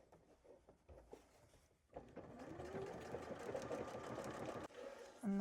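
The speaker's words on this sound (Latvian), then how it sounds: "ko pamēģināsim šo te dekoratīvo dūrienu intereses pēc" A Bernette b38 sewing machine stitches a decorative pattern, starting with a few handling knocks and then running in a steady, quiet mechanical whir for several seconds before stopping.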